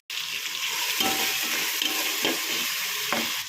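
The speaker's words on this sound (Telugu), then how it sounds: "పచ్చివాసన పోయేదాకా ఫ్రై చేసుకోవాలండి." Biryani masala with chicken masala frying and being stirred in a pan, a steady close sizzle with soft scraping stir strokes, no voices.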